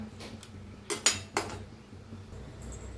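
A few sharp metal spoon clinks and scrapes against a pot as chopped coriander is stirred into food, spaced irregularly over a quiet background hum.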